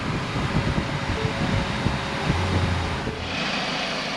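A 2014 Ford Focus engine, with its AC compressor running, gives a loud, steady broadband drone that rises slightly in pitch as it revs, then eases into a slightly different hum near the end.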